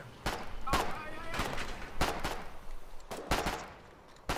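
Gunfire in the video game War 88: sharp, loud cracks fire in irregular short bursts over a rumbling background, with voices mixed in.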